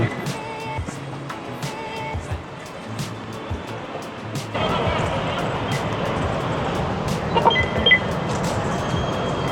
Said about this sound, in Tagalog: Parating yata ang tren.